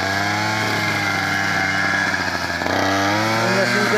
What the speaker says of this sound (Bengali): মেশিন দিয়ে আমরা কাটতেছি, ঘাস